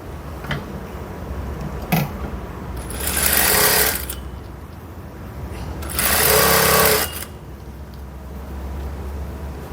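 A sewing machine stitches the folded hem of a blouse sleeve in two loud, close bursts of rapid whirring, each about a second long, separated by quieter background hum.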